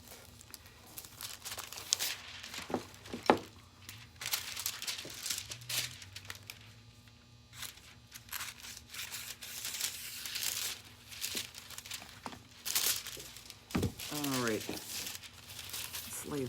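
Green confetti foil for Christmas ornaments is crinkled and handled up close in soft, irregular rustles and crackles, with a few sharper crinkles, while a person talks quietly in the background.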